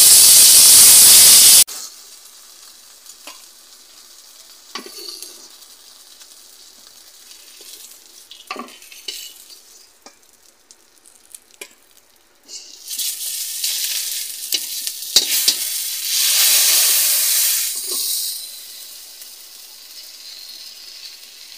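Pointed gourd (potol) pieces fry in oil, starting with a loud sizzle that drops to a low bubbling with scraping stirs, then a strong hissing sizzle rises again near the end, close up and wordless.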